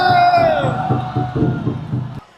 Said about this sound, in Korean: 여러분 뜨거운 함성을 보내주시기